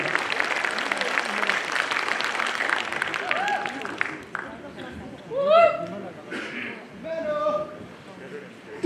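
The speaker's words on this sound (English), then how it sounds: "Please give round of applause." An audience applauds at a women's physique competition at a festival. The clapping is dense at first and fades after about four seconds, leaving chatter, laughter and a voice over a speaker system.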